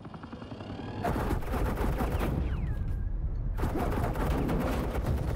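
Rapid automatic gunfire in a Batman Telltale game, opening quiet and then erupting into loud continuous machine-gun bursts, briefly pausing before resuming at full intensity.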